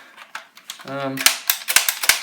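A light plastic toy prop gun made to look like wood, its mechanism giving a quick string of sharp close clicks and snaps, irregular and loud after a brief tonal squeak.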